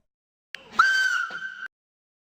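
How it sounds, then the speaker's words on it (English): A single train whistle sounds in the Mashinky railway game: a short click, then one clear sustained tonal blast of under a second that cuts off abruptly, heard alone against silence. "you can whistle."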